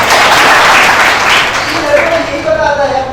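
An audience at a sanitation and health awareness programme breaks into a short burst of clapping that fades within about two seconds, followed by a voice speaking.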